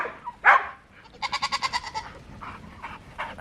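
A short burst of dog barks on a livestock farm, about six quick yaps in a row, fairly close, with a bleat-like call just before and rustling farmyard noise.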